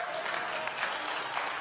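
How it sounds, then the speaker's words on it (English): Members of a church congregation give a hand clap of praise, dense ongoing applause with scattered sharper claps and faint crowd murmur mixed in. "Let me hear somebody giving a hand clap of praise."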